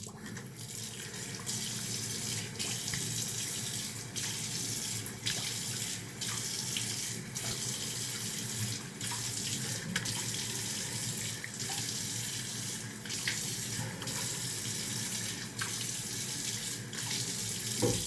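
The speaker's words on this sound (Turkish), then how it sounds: "yüzümü yıkıyorum" Water runs steadily from a sink tap for the whole stretch while someone washes their face, with soft splashing and hand-scooping sounds over the constant flow; there is no speech.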